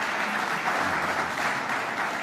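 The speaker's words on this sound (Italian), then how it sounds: "non ci sono gli applausi dopo le risposte" Audience applause at a lecture on the economic crisis, a dense, steady patter of clapping from a crowd that carries on for a couple of seconds at moderate distance, without any talk.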